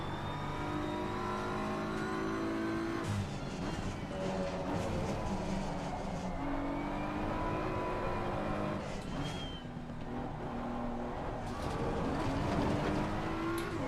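A race car engine in the Assetto Corsa Competizione racing game, droning and revving steadily throughout with shifting pitch as the car slides out of slow corners. No voices are heard.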